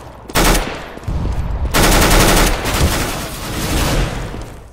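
Gunfire from the video game CS:GO comes as loud, sustained automatic sprays with brief gaps between bursts, close and dominant, with no voices.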